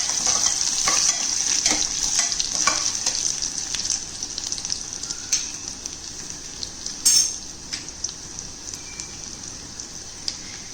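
Little millet roasting dry in a hot pan, a steady close crackle and hiss with scattered sharper pops and scraping, continuous throughout with no talk.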